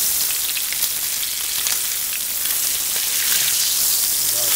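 A salmon fillet frying in a pan just after being turned over, hissing with a loud, bright, continuous sizzle and crackle close up, with no voices.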